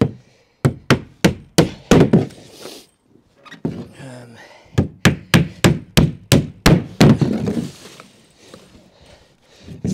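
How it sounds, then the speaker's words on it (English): Hammer blows drive nails into OSB timber wall sheets of a garden room, coming in two quick, rhythmic runs of close, loud thwacks with a short pause between them. "We're nailing them approximately every 400-ish"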